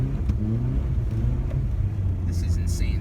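A used Subaru Impreza wagon pushes through 15 to 16 inches of deep snow, its engine a steady low rumble heard close up, with a few brief higher sounds near the end.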